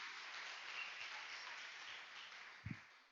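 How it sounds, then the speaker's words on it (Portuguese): A church congregation applauding during an evangelical service, a steady wash of clapping from many hands, somewhat distant and soft, ending in a couple of louder thumps near the close. "Então vamos aplaudir o nome do Senhor."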